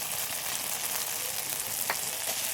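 Spice paste for prawn malai curry frying in a pan as chili powder goes in, giving a steady soft sizzle with a brief sharper crackle near the end.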